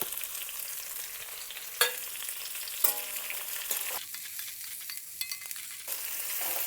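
Onions and curry leaves fry in a pan with a steady close sizzle, interrupted by a few sharp clatters of stirring or ingredients dropping in.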